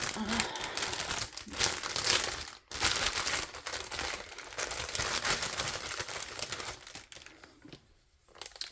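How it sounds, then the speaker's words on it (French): Embroidery threads being pushed back into a plastic bag: continuous close crinkling of plastic with brief pauses, loud and alone. "je vais remettre les fils dans leur sachet avant de tout mélanger"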